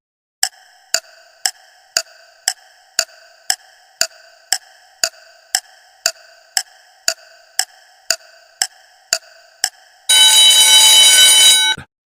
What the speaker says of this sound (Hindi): Let's start the timer.